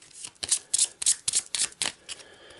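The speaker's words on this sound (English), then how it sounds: "you shuffle any discarded cards back into your draw deck" Board game cards shuffled back into a draw deck, a rapid series of crisp riffling bursts, close and clear with no talking.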